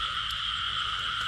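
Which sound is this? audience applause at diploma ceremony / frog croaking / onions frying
frog croaking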